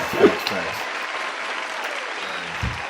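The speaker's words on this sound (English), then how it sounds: "Round of applause for the Henny." A short round of applause on a casual hip hop talk show, clapping that spreads as an even, modest wash for nearly three seconds, with a voice briefly at the start and end.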